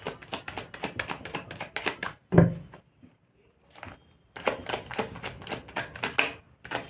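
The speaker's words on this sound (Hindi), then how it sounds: "कार्ड्स इतने क्यों टकरा रहे हैं" Tarot cards being shuffled, rapid bursts of crisp flapping clatter in two runs separated by a quiet pause with a thud, close and without talk.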